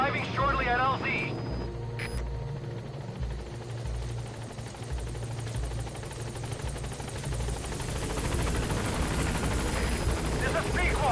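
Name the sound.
Pequod helicopter arriving at landing zone, Metal Gear Solid 5 video game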